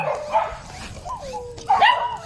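Several dogs bark and yip outdoors, a few sharp calls and a rising whine-like yelp from nearby, with faint background noise between bursts.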